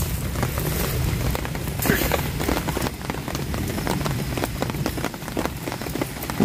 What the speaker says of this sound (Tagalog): hindi naman po ganun kalakas ang ulan